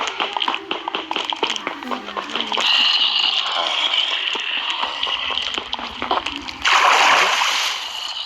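Blocky water splashes and sloshing in the Minecraft survival game, repeating in short bursts with a louder rush near the end, under steady talking.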